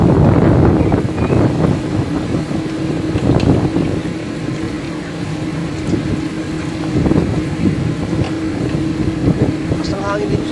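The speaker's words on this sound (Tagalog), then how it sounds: "Napagawa na rin dito pa mga hangin, alakas ang hangin." Strong gusting wind buffets the microphone with a steady low roar throughout, while a voice talks over it.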